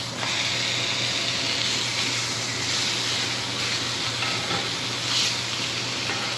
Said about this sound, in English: Alright, and now I'm going to throw in the steak.